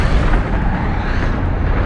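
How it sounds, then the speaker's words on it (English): Huge explosion sound effect: a loud, sustained rumbling boom with deep, rolling low-end that fills the whole stretch without easing off. "causing an almighty explosion that resounded across the cosmos"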